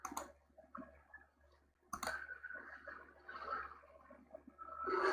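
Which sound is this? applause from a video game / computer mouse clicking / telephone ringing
computer mouse clicking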